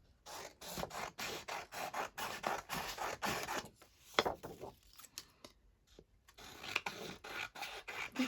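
Scissors trimming excess paper from a collaged postcard, repeated close rasping snips and paper rustles in irregular bursts with brief pauses.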